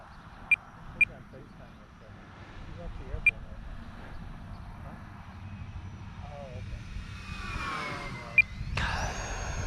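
An FMS 80mm Rafale RC jet in flight gives a steady airy rush that swells near the end into a rising, whining sweep as it passes close. Sharp electronic beeps sound at intervals over the top.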